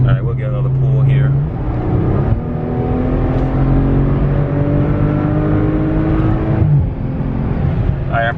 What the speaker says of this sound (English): That's how good the engine sounds.